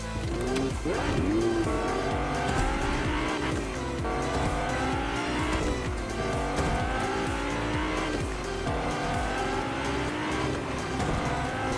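A car driven in Fortnite Chapter 2 Season 6, engine revving loud and steady throughout with repeated tire squeals and skids, no talk over it.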